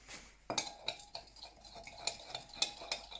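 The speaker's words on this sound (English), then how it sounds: "once you've added it, then give it a nice stir." A spoon stirs red food colouring into a cup for a sugar rainbow, giving a run of light, close clinks and scrapes against the sides in an uneven rhythm.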